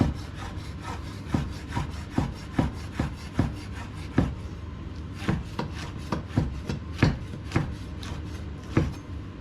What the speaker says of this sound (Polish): Te końcówki odkrajamy, resztę kroimy na takie paski.